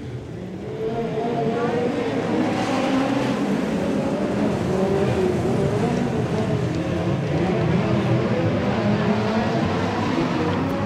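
A field of race cars roars around a short oval track during a championship points race, a dense, continuous engine drone that swells in after the first second and holds steady and loud.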